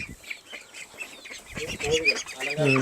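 Native Kerala hens and chicks on a small farm in Cherthala cluck and chirp in short bursts, with a person talking over the birds near the end.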